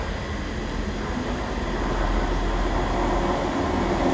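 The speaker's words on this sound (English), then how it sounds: "here comes our train, the slightly delayed 1532 ScotRail service from Cowden" A slightly delayed ScotRail passenger train arrives at Edinburgh Haymarket on a rainy day, a steady, fairly loud broadband rumble and roar of the approaching units with no voices.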